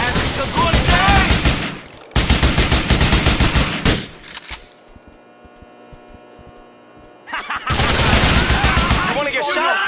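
Loud, rapid automatic gunfire in the GTA IV video game comes in three long bursts, split by a quieter stretch of low hum, all close and intense.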